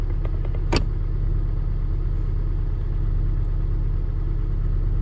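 A Honda car with a CVT transmission runs steadily at idle, giving a continuous low engine rumble. One brief sharp click or squeak comes near the start.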